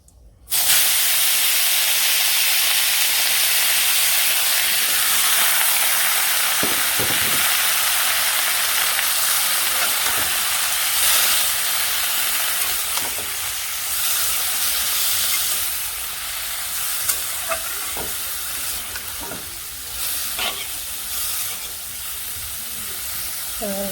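Chopped vegetables with chili sizzle and hiss steadily in a hot pan, with scattered scraping clicks of stirring breaking through the constant frying noise throughout.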